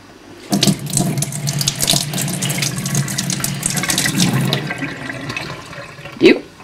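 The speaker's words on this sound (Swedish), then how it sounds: "Och för att göra så att det inte finns några klumpar i vattnet så ska vi siva det." Water is poured from a bottle through a kitchen sieve, making a steady splashing stream that runs for about four seconds before tapering off. A brief, sharp sound follows near the end.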